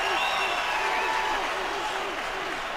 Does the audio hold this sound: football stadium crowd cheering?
yes